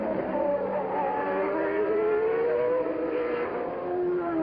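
Formula 1 cars from the 1990 Brazilian Grand Prix race past, with Berger overtaking behind a V8-powered Tyrrell. A steady, loud engine whine rises slowly in pitch over a low rumble, continuous throughout.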